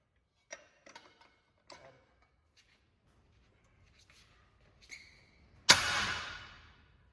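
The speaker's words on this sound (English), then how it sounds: "That is the sound of 23-year-old lugs breaking loose for the first time." Wheel lug nuts on a 1966 Ford fire truck, 23 years untouched, break loose with a few faint metallic ticks and clicks, then a single sharp loud crack that decays quickly.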